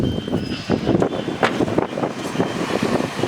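Blower running inside the insulated refrigerated cargo cabin of an Eicher Pro 2049 truck, a steady, close, broadband rushing airflow with a low rumble and no talk over it.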